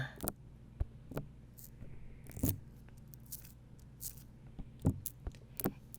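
Sticky honey peeling away from skin during a massage in soft, irregular crackles and tacky pops, close and quiet, with short pauses between pulls.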